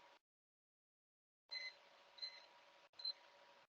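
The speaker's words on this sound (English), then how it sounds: "Okay, it beeps, it stops" A few faint, short electronic beeps sound from a SINEO TANK40 microwave digestor as it stops, in a quiet room, spaced unevenly over a low hum.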